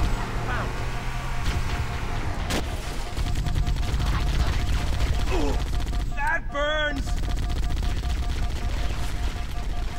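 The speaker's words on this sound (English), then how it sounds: "Dude, stop shooting me!" Gunfire aimed at the player in Halo: Combat Evolved, with sharp shots and bursts over a constant rumbling game background, plus brief warbling electronic effects near the end.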